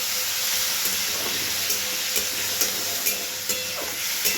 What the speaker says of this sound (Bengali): মশলাটা প্রায় ভাজা হয়ে গেছে, এবার হালকা জল দিয়ে দেবো।